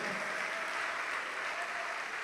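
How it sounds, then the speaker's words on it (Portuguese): A church congregation applauds in a steady, dense stream of clapping that fills the room without pause, with faint voices mixed in. "Vamos aplaudir mais, igreja, vamos aplaudir mais."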